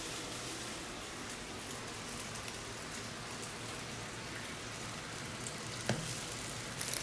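French toast fries in a hot pan, a steady, even sizzle that fills the whole stretch at low volume, close up, with a faint clink near the end and no voices.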